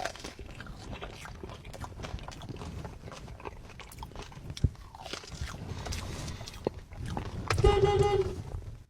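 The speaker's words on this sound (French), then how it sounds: "Je vais me rincer le palais avec un petit popcorn directement." Popcorn being eaten close to the mic, with a steady run of crisp crunching and chewing bites throughout and a louder burst near the end.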